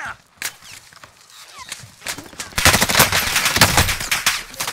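Gunfire in a video game shooter, rapid bursts of automatic fire and scattered single shots growing denser and louder in the second half, mixed with footsteps and game noise.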